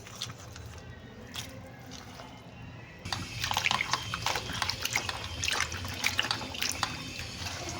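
Water sloshes and splashes as goat head meat is washed by hand, a continuous near wet churning that grows louder and busier partway through.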